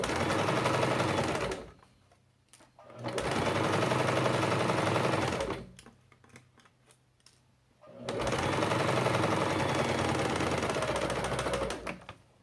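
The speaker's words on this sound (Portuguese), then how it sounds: "Agora, você vem costurando o seu pé de máquina." Sewing machine running in two long bursts of steady rapid stitching, with a pause between them, as fabric is sewn along the width of the presser foot while making continuous bias binding. The machine is close and fairly loud, and no one speaks.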